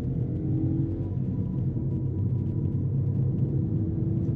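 Volkswagen Polo V, a small 60-horsepower three-cylinder city car, rolls downhill on a mountain road, giving a steady low engine and road rumble heard from inside the cabin, with no talk.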